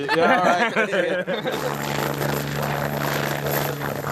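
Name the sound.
helicopter flying overhead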